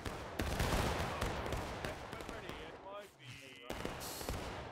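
Rifle volleys fired on command in the War of Rights Civil War video game: a rapid cluster of loud, sharp gunshots early on, then scattered shots and voices shouting over the fire.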